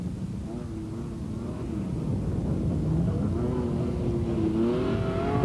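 A Citroen ZX rally raid car in the 1994 Tunisia desert stage drives through very soft sand, its engine droning steadily and rising slightly in pitch, loud and continuous.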